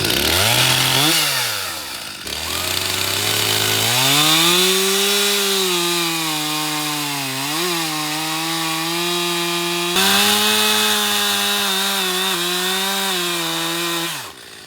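A chainsaw cuts into a leaning tree, its engine revving and dropping in pitch under load across a long continuous cut, loud and close, with a brief lull partway through.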